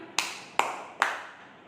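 Three sharp hand claps ring out alone, evenly spaced about half a second apart, each crisp and close with a short decaying tail.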